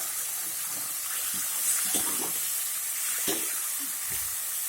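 Fresh mint leaves dropped into a hot pan, giving a steady hissing sizzle close by with a few soft scrapes and rustles as they are moved around, no voices present.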